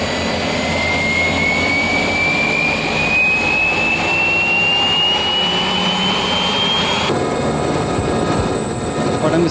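Helicopters flying in an 80-aircraft formation give a steady, loud, close roar of rotor and turbine noise, with a slowly rising engine whine that cuts off abruptly near the end.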